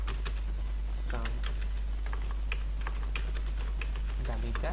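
Typing code on a computer keyboard, a stream of quick, irregular clicky keystrokes close by, running under someone talking in Hindi over a constant low hum.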